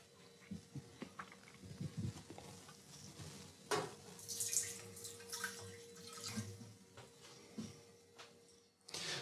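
Water splashing and trickling while a siphon and beer keg are sanitized for kegging pale ale, faint and uneven with intermittent sloshes, drips and a brief louder gush.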